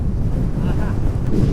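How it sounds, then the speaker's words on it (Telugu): Strong wind buffets the microphone during a motorcycle ride through a windstorm on the road from Chirala to Bhadrachalam, a loud steady low roar that fills the whole stretch. "ఏసీ వచ్చినట్టు వస్తుంది గాలి."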